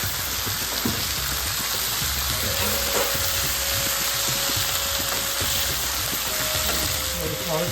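Ivy gourd and potato curry frying in a pan, a constant close sizzle with scraping stirs breaking through at intervals, and a faint voice in the background.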